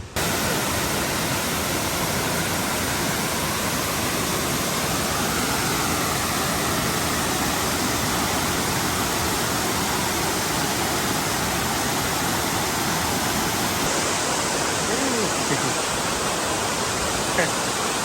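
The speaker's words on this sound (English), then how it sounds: "we'll be going down to the waterfall here" A waterfall on Kauai pours in a constant, full roar close by, a thick even rush of falling water that holds unbroken for the whole stretch, with a brief voice near the end.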